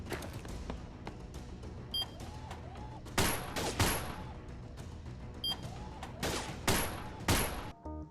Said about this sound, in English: You got pistols, you got shotguns, machine guns, assault rifles, you got all kinds of stuff